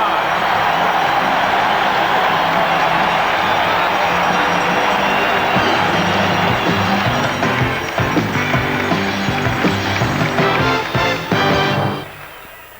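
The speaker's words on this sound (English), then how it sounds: "Listen to the crowd." A dense arena crowd roars in the closing seconds of Game 4 of the 1986 NBA Eastern Conference Finals between the Atlanta Hawks and Boston Celtics, a loud continuous wash of cheering that drops away sharply at the end.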